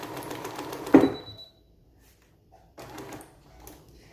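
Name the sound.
sewing machine running without a bobbin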